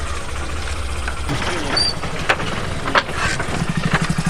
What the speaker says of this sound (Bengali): বাঁশের পাটাতন বিছিয়ে এই যে এর উপর দিয়ে মোটর সাইকেল পেরোচ্ছে